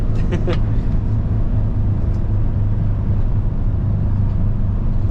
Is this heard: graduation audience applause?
no